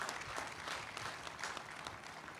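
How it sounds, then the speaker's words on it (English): Seniors and guests at a school graduation ceremony give the faculty a round of applause. The clapping is many-handed and steady, with scattered individual claps standing out. It sounds distant and fairly faint. "Seniors, let's give your faculty one final round of applause in recognition and in thanks for their dedication to you"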